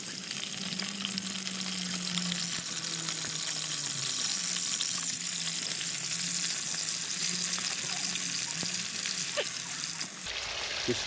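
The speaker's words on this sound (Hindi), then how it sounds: "सबसे पहले हम इसमें जो है ना फिश को फ्राई करेंगे।" Fish sizzles and crackles steadily in hot oil in a pan, a continuous close frying hiss lasting several seconds with occasional light clatter near the end.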